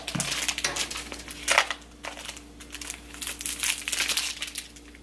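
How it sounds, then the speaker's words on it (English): Plastic packaging crinkles and crumples as a set of new BH Cosmetics makeup brushes is unwrapped, with steady close-up rustling bursts running through the whole stretch, no one talking. "So let's unwrap them all."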